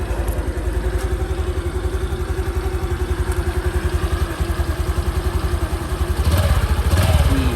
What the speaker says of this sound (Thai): เครื่องยนต์บล็อกใหม่นุ่มนวลมากครับ